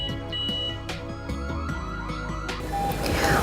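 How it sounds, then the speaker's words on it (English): A G90B WiFi GSM burglar alarm siren sounds a rapid run of loud electronic beeps with rising, sweeping tones, followed by a harsher burst near the end. "After the siren sound beep beep and the OLED display success,"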